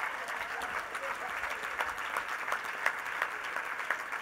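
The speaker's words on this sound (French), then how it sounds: "j'aimerais qu'on donne une bonne main d'applaudissements au comité organisateur" A gala awards-night audience applauds the organizing committee, a dense, steady wash of many hands clapping at moderate distance, sustained throughout without a break.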